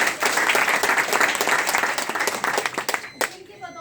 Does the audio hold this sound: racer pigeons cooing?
no